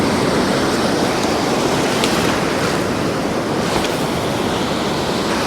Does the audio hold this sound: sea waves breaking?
yes